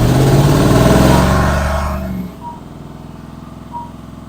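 A vehicle engine, under repair as part of a project, turns over and runs loud and revving for about two seconds, then drops to a quieter idle with a faint rhythmic putter.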